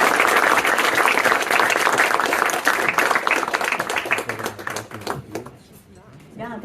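An audience claps and cheers loudly for a speaker at a political event, sustained applause that fades out toward the end as a voice begins to speak.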